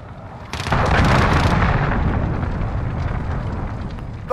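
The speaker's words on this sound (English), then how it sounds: "Allied cruise missile on the way." Cruise missile explosion in a Call of Duty game: a loud, deep blast erupts after a brief lull and rolls on as a sustained rumbling roar that slowly tapers.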